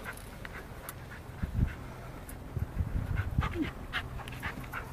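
Two dogs pant softly and steadily nearby, with low scuffling and a faint whimper in the middle, the sound quiet and somewhat muffled over background noise.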